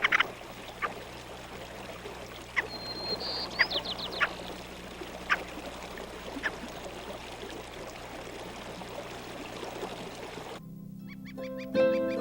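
Ptarmigan roosters cackle in willow flats in spring, scattered short guttural calls popping out over a steady bed of running water, some distant and faint, ending with a burst of closer noise.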